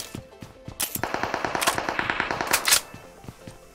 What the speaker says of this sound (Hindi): तभी में मुझे आगे से गोलियां चलने की आवाज आती है